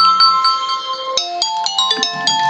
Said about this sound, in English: That's my phone, give me a sec.